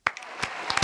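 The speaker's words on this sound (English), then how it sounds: "Applause." Short burst of studio audience applause on a talk show set, close and fairly loud, starting abruptly and holding steady for under a second.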